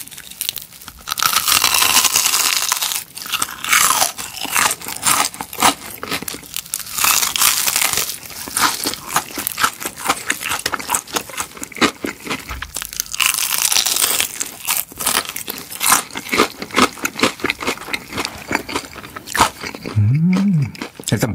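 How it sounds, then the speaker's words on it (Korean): Crunchy Korean fried chicken with a crisp coating is bitten and chewed close to the microphone, producing dense, continuous crackling crunches for around twenty seconds, with brief pauses between bites. "근데 얘는 바스스스스 하면서 부드러움이 공존하는 바삭바삭한 느낌?"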